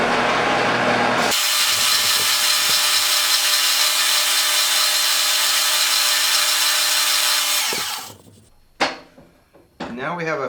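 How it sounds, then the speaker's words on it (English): A hardwood dowel being sanded with sandpaper gives a loud, continuous whirring hiss for about six seconds, then stops, followed by a few brief knocks and scrapes. "Get it good and tight, and just finish it by sanding."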